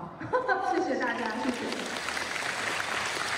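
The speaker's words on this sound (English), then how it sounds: "Children sit in the school hall, enraptured, and clap as they listen to the dancer in front of them." Children in a school hall clap for a visiting wheelchair ballroom dancer, a steady wash of many small hands under a brief voice at the start, then continuing as a dense, even patter.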